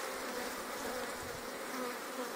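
Honeybees inside a hive that has had its queen removed, a steady faint buzzing hum from many insects, continuous and even, with no talk.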